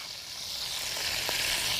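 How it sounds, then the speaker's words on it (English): Cabbage sizzling in a skillet with bacon and its drippings, a soft hissing fry that swells slightly louder with one faint clink partway through, no voices. "I'm gonna add it to the skillet with the bacon and all those drippings"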